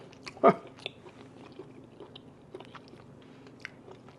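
A bite of roast branzino being eaten close up, one sharp crisp bite followed by soft wet chewing and small crunches, fairly quiet.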